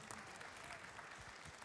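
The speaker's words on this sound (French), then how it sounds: "Merci Julien, on peut l'applaudir." Audience applause at a live cooking show event, a steady wash of many hands clapping throughout, fairly faint and distant.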